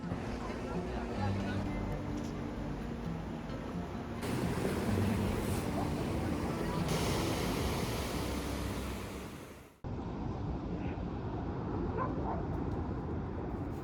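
Ocean waves crash along a beach in northern Spain, a steady broad wash of surf with wind noise over the microphone and a brief dropout near the end.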